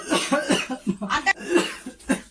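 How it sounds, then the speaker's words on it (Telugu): A man coughs repeatedly in a close, loud burst of about eight harsh coughs in quick succession. "అంతగానో దగ్గు ఎందుకు?"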